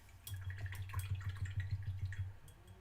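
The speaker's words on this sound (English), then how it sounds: "scraping the paint off on the palette again, into the water, sploop," A small paintbrush dipped and swished in a water cup during painting, giving a soft rhythmic series of close, quiet watery splashes and drips.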